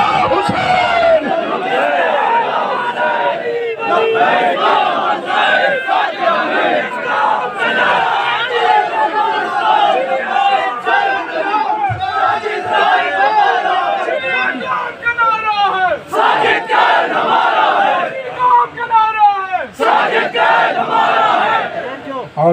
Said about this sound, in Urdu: اپنے بازوؤں کو بلند کیجئے نعرے کے ساتھ لبیک یا حسین